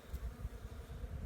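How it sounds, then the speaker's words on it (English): A low, steady hum of many European honeybees buzzing together around a toyon shrub, faint and diffuse like a swarm nearby. "European honeybees."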